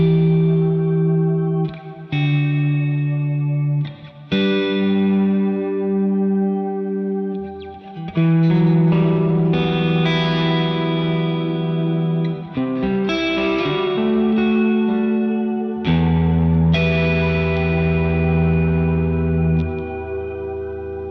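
MXR M300 reverb pedal with its tone set toward the upper octaves, shimmering over sustained guitar chords and notes; a bright, lush wash rings out continuously at steady loudness, with chord changes every few seconds and no talking.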